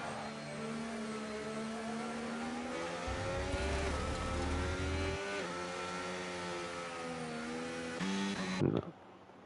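A race car engine in a Spa sim racing game revs up and down continuously, its whining tone rising and falling through gear changes, loud and close until it stops abruptly.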